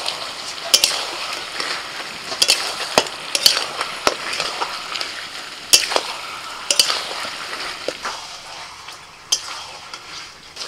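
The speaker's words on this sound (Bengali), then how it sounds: "আদা রসুন দিয়ে কিছুক্ষণ নাড়াচাড়া করে" Chicken stir-fried with ginger-garlic paste in a pan for a country chicken and ash gourd curry: close, steady sizzling broken by repeated sharp scrapes and clinks of a spatula against the metal, with no voices.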